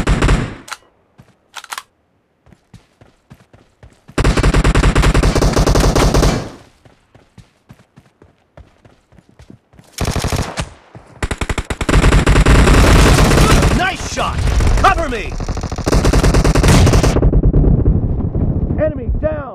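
Gunfire in the mobile battle game PUBG Mobile: loud bursts of automatic fire and single shots come in several long volleys separated by quieter gaps, with wind noise and voices in between.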